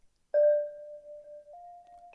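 A slowed-down bell tone in a dancehall/Afrobeats beat rings out alone as one long sustained note, then shifts slightly higher partway through and holds, clean and prominent.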